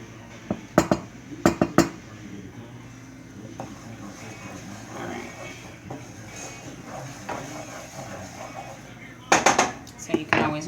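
A whisk works through roux inside a pressure cooker pot, with rapid metallic clinking bursts at the start and end and a quieter background hum between them.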